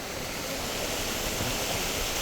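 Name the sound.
rushing mountain water near a hostel in Kashmir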